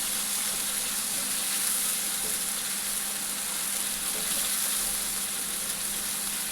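A steady, loud sizzle fills the pan as fried onions go into a chicken roast cooking with garlic, ginger and green chilies, the hiss continuous and close with no talk.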